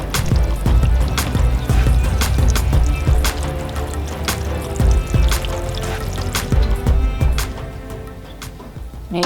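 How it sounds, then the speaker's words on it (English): Water pours into a plastic seed-starting tray, a steady splashing trickle with scattered drips and gurgles, close and fairly loud, with no talking. "the next thing to do is to put some water in this tray"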